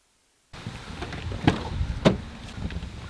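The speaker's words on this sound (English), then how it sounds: "The wind is like super howling right now" Blustery wind gusting up to 25, buffeting the microphone with rumbling low gusts and a couple of sharper knocks, starting abruptly after a brief silence, at a sailing spot.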